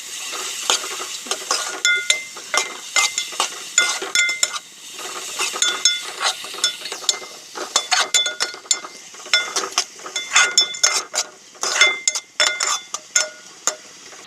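Onion and tomato are sautéed in a pan, with a spoon scraping and clinking against the metal in a quick, steady stirring rhythm over a constant soft sizzle. The sound is close and fairly loud, and no one speaks.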